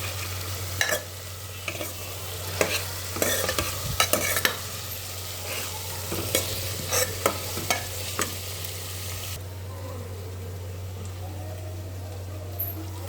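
Spices sautéing in oil for chana bhaji, with repeated scraping stirs and clacks of a spoon against the pan over a low sizzle. The stirring stops near the end and leaves a quieter hiss.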